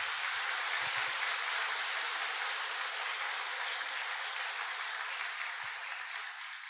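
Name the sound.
audience applause for uplines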